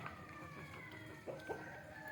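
Native chickens being given bran at midday, giving a few faint, brief clucks over quiet background noise.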